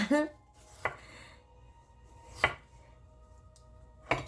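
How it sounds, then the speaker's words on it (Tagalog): A knife cuts thin potato slices on a board for scalloped potatoes, landing as three sharp, evenly spaced chops with quiet pauses between them, heard up close. "Hiwain lang natin ng manipis to, okay?"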